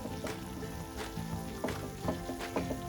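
Moong dal halwa sizzling and frying in a pan while being stirred continuously, a steady close crackle with periodic scraping strokes of the spoon every half second or so.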